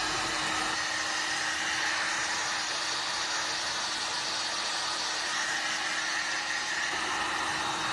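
A heat tool blows hot air steadily while warming wood glue on a patriotic tip jar, a constant close rushing hiss with no pauses.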